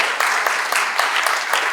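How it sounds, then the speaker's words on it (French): A conference audience breaks into dense, loud applause, many hands clapping together in a sustained, lively burst that lasts throughout. "et donc j'aimerais qu'on les applaudisse très fort"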